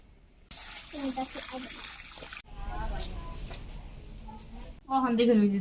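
White egrets bathing in a small pool of water make uneven splashes and trickling, with people talking over the water sounds at close range.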